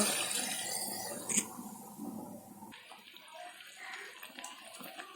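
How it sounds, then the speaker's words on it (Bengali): Water pours into a cooking pot for a Bengali dish of hilsa fish with sweet pumpkin. It starts as a rushing splash, then a sudden shift leaves a softer bubbling trickle. "জল দিয়ে দিব"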